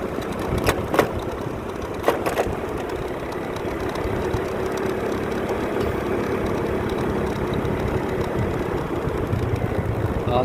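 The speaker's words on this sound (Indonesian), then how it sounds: "ini di atas motor, kurang lebih kecepatan motor 30-40 km per jam" Steady engine drone and road rumble from a motorcycle ridden at roughly 30-40 km/h, continuous and fairly loud, with a few sharp clicks or knocks near the start.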